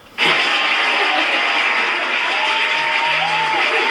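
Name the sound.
clapping applause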